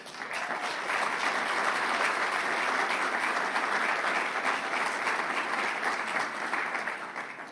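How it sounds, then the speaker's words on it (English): An audience applauds at a press conference held by the governors of New York and New Jersey. The clapping is full and steady, swelling quickly and holding for several seconds with no talk over it. "Shamelessly fishing for applause."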